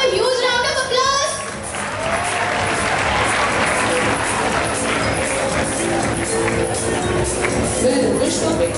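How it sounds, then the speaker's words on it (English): Audience in a school hall applauding during an English quiz event, sustained dense clapping with crowd murmur, loud and steady across the whole stretch after a brief opening of other sound. "May we have a huge round of applause?"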